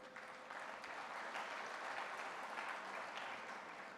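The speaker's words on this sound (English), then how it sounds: "that applause we can give to everyone who did it" An audience applauds during a keynote speech at the 54th FHRAI Annual Convention, a hotel industry gathering, giving a soft, even roll of many hands clapping from a distance that holds steady throughout.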